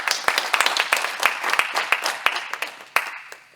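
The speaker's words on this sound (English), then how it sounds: "Please give him a round of applause." Crowd applause at a unity conclave of community and religious groups: a dense, lively burst of many hands clapping, sustained across the whole stretch and easing off slightly at the end.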